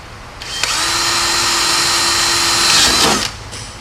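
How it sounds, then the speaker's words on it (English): A power drill runs continuously for about three seconds while boring a hole through an aluminium fuel tank stiffener. The whine is close and loud and starts and stops abruptly. "Drill that hole."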